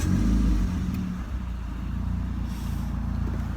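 A car engine cranks and fires up in a driveway after an oil change, settling into a loud, steady low idle rumble that runs throughout, with no talking.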